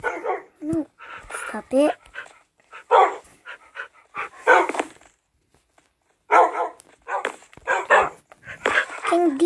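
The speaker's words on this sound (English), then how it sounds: "Can these puppies stop moving?" Puppies bark, yip and whimper in short bursts close by, mixed in with a person talking over them.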